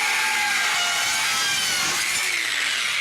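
A DualTools CS450 saw cutting through steel, a loud, continuous high-pitched grinding whine that holds steady close up for the whole stretch.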